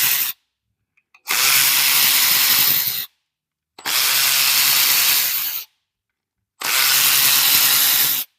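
A Milwaukee power tool backs screws out of a Vanos housing on a 2008 BMW 650ci engine, three loud sustained whirring bursts of about two to three seconds each, separated by silent pauses, close up with no talk.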